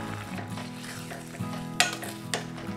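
Cooked moong dal is stirred into a sizzling pan of pumpkin kootu, with a continuous soft frying hiss under wet stirring and a couple of sharp clinks of a spoon against the pan.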